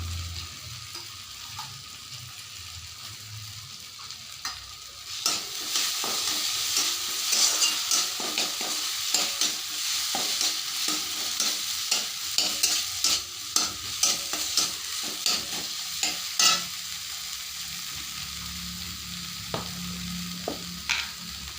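Poppy seed paste fries in a pan and is stirred repeatedly, a quiet hiss that swells into a loud, crackling sizzle with rhythmic scraping strokes of the spoon, close up and with no voices.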